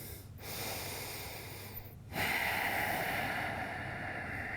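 Two deep, slow breaths during a yoga hip stretch, each a long airy nasal inhale and exhale heard close, with no speech.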